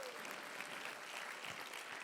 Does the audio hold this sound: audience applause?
yes